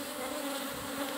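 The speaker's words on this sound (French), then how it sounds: "je crois que c'est de l'abeille noire" Black honey bees swarm around an opened hive, making a continuous close, dense buzzing drone with a steady hum and no other sounds.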